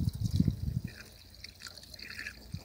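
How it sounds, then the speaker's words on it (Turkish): Yeast starter being poured into 10 litres of water for homemade natural garden fertilizer, a brief splashing gush at first that settles into a faint trickle and dribble. "Şimdi ben bunu 10 litre suya döküyorum."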